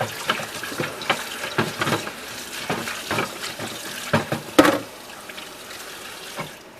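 Water runs from a tap into a kitchen sink while something is rinsed out, splashing and clattering in uneven bursts before settling to a softer flow, with no talking.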